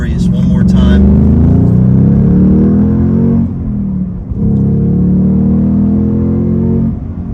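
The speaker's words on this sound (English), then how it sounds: "The sound that this exhaust makes, absolutely glorious." A 2022 Ford Mustang Mach-1 with the Handling Pack revs its loud exhaust up close, a deep rumbling roar rising and falling in two sustained pulls with a brief dip between them.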